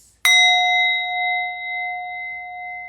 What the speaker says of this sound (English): I want to play my mini bowl for you guys just while you breathe.